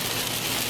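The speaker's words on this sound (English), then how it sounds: "there's some crazy, crazy rain weather" Heavy rain pours down outdoors in a swampy downpour, a dense, even hiss with no gaps. It is loud and continuous throughout.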